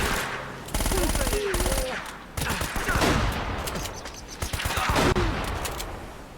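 Shotgun fire in the action game Uncharted 1 comes as repeated loud bursts spread across several seconds amid chaotic combat noise, with a voice faintly present in the mix.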